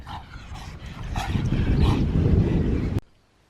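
Dogs barking and yipping outdoors on a windy day, a few short barks carried over steady loud wind rumble that cuts off abruptly near the end.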